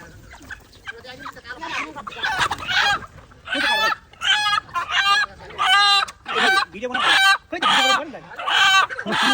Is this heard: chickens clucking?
yes